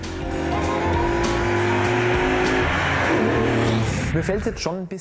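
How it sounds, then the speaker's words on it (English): A vintage Fiat Dino Spider sports car engine roars steadily up close, its pitch shifting as it drives, with a voice speaking over the end. "And the Dino's sumptuous engine is legendary."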